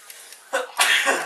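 A sudden sneeze close to the microphone, a short intake followed by a sharp explosive burst, with quiet background before it.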